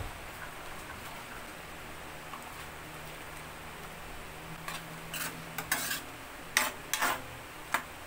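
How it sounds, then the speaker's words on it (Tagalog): Jackfruit stew with shrimp cube stirred in a pot, a quiet bubbling bed with a few louder spoon clinks and scrapes toward the end, no speech. "hahaluin lang po natin yan hanggang sa kumulo."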